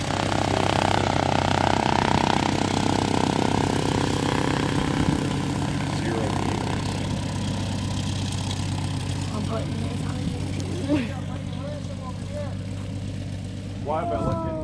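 A propeller airplane's engine drones loud and steady as it powers up for takeoff, then eases slightly as it pulls away, with brief voices near the end.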